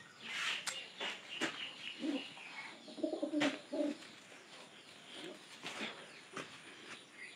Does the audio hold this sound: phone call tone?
no